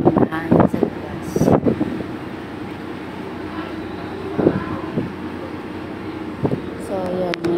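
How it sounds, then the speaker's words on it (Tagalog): Steady wind rushes outside aboard a passenger boat at sea, a constant broad whoosh with gusty swells, under intermittent talking. "Mahangin sa labas."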